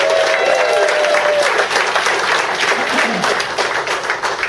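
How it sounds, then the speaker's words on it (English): At a market party, an audience claps for Mindy, a lively burst of close applause with a few cheers, a brief high tone near the start, and the clapping thinning slightly toward the end. "please give a very big round of applause for Mindy"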